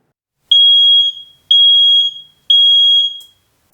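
A smoke detector alarm blares three loud, piercing electronic beeps in an even rhythm, each about a second long with short gaps, alone and close.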